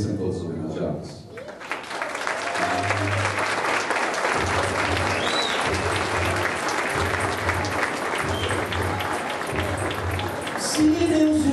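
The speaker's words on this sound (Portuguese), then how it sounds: "gostaria de convidar mais uma vez para que vocês ficassem em pé e aplaudissem todos os homenageados" Graduation ceremony audience standing and applauding the honorees: sustained, dense clapping from a large crowd filling the room, steady and loud throughout with a low rhythmic hum underneath and a brief voice near the end.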